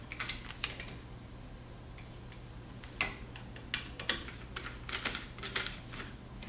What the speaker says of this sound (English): And then you're just going to tighten these back down.